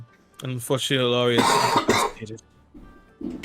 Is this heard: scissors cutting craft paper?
no